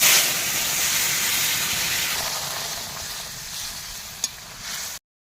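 Fish curry of bata fish with potato and snake gourd sizzles steadily in a pan as oil is poured in, a broad hiss that eases slightly midway, with a brief sharp clink near the end.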